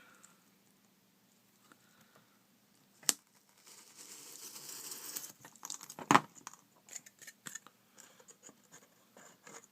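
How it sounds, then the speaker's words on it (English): Cutting material for a DIY paper miniature storage and travel case produces a soft, faint scratchy rasp that lasts a couple of seconds, broken by a few light sharp clicks and taps. "Let's go ahead and cut this just a little bit."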